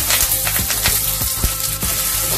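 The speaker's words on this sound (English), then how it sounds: "Saute the shallots so it changes the color." Shallots and curry leaves sauté in hot ghee with a steady close sizzle and crackle, punctuated by sharp clicks and taps of a utensil against the pan, with no talking.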